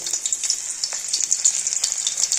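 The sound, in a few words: chopped garlic frying in hot oil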